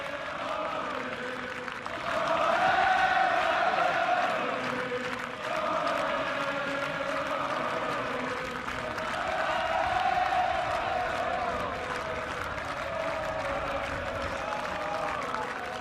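Ryder Cup golf gallery of European fans applauds and cheers in long, steady waves of clapping and roar that swell and ease across the whole stretch, dense and fairly close.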